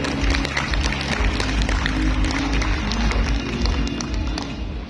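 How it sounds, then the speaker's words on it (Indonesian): An audience claps at a seminar on agricultural financing, a dense, steady patter of many hands filling the room for several seconds and tapering slightly at the end. "Boleh tepuk tangannya sekali lagi"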